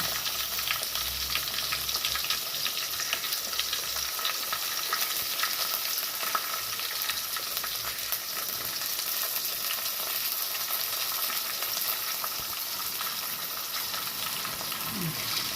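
Small onions fry with vadagam in a pan for fish curry, giving a continuous dense sizzle with occasional stirring scrapes, close and steady throughout with no talk.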